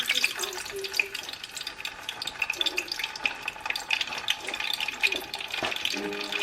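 Butter melts in a hot pan in a steakhouse kitchen, giving a steady close crackling sizzle with small pops and utensil scrapes, and a voice talks briefly now and then.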